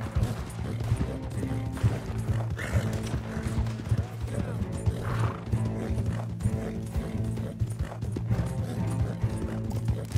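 Horses gallop in Red Dead Redemption 2 as riders flee lawmen, a continuous rhythmic clip-clop of hooves running under game music and occasional talk, with a brief whinny.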